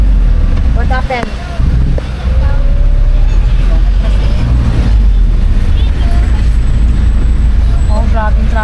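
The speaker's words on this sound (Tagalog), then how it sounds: "Oh, grabe yung traffic po." Heavy road traffic in a congested Philippine street, a steady loud rumble of engines with passing vehicles, bus-like brake hiss and occasional horn squeals throughout, with voices talking over it in places.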